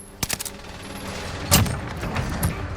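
A few sharp gunshots crack out in Call of Duty: Vanguard, a pair of quick reports at the start and a louder single rifle shot midway, against a quiet ambient background.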